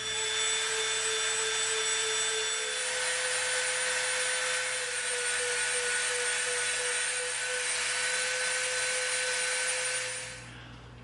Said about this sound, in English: we're going to bevel on this inside with our Dremel